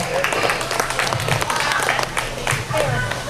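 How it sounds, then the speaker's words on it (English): Audience applause at a livestock show for the division champions and exhibitors, a steady wash of clapping filling the space with a few voices mixed in. "let's give all these exhibitors a round of applause, these division champions, a big round of applause"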